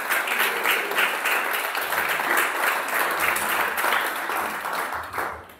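Congregation at a church worship service applauding together, a steady dense wash of many hands clapping throughout, loud and continuous with no talk, tapering slightly at the very end.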